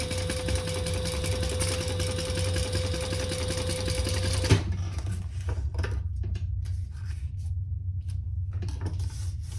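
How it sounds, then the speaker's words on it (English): A sewing machine hums steadily and close while stitching down the side seams of a retro-style sling bag, then stops abruptly halfway through, leaving soft handling and fabric rustles. "we're going to sew down each side at the seam allowance in the pattern"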